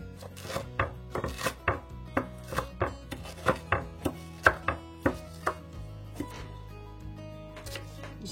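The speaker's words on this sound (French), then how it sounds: "je les hache grossièrement." Dandelion greens are roughly chopped with a knife on a board: a quick, fairly regular series of about a dozen crisp chops that slows and fades toward the end, with no talking.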